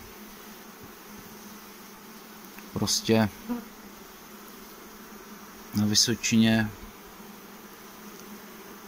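Honeybees buzz around an open hive during a spring inspection in the Vysočina highlands, a steady close hum running throughout while someone speaks in two short bursts over it.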